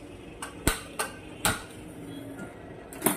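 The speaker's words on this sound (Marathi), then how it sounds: "मी सुरुवातीला गॅस चालू करून घेते" A gas stove clicks on, with several sharp igniter clicks spaced irregularly in a quiet room.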